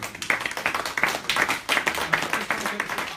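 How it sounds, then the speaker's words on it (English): An audience claps through a round of applause at a nutrition talk, with dense, uneven hand claps carrying steadily at moderate loudness throughout. "a big round of applause for doing that"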